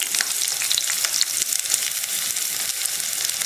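A chopped medium onion sizzles and crackles in hot oil for a Chettinad vegetable biryani, a dense, steady frying hiss close up with no voices.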